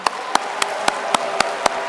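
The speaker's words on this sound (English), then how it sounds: "Another round of applause for him" Slow, regular clapping at a Biafra gathering in Finland, about eight sharp claps evenly spaced over a low murmur of room noise, fairly close and distinct rather than a dense ovation.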